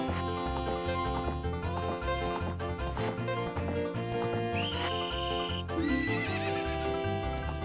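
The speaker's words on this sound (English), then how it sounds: "Let's go out like running our horse now." Hooves clip-clop in a steady galloping rhythm over dense background music in The Legend of Zelda: Ocarina of Time, with a horse whinnying partway through.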